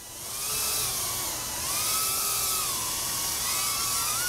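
A Kingkong 90GT brushless micro drone flies in angle mode, its motors giving a steady high-pitched whine that rises and falls with the throttle, close by and continuous.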